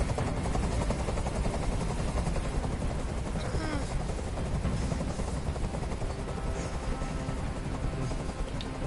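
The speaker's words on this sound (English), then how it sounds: "Tell that helicopter to get out of here." A hovering helicopter in the video game Detroit: Become Human gives a steady loud rotor drone throughout, with a voice talking faintly beneath it.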